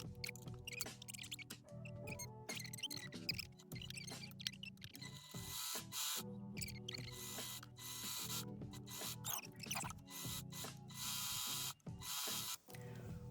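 Sewing machine stitching dress seams in quick, rhythmic mechanical bursts with brief pauses between runs, close and fairly quiet.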